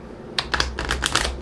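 A deck of tarot cards being shuffled gives a quick burst of crisp clicks and flutters, close and brief, with no voices.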